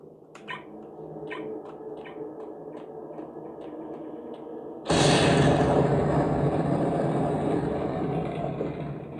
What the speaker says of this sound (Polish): Teraz zobaczycie jeszcze zajebisty efekt wybuchu tych drzwi.